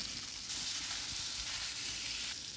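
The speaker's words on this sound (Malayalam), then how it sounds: "വെളിച്ചെണ്ണ ഒക്കെ ചൂടായി. നമുക്ക് ഇനി അത് വറുത്തെടുക്കാം." Mackerel (ayala chempan) fries in hot coconut oil, giving off a loud, steady, close sizzle that hisses without a break, with no voices over it.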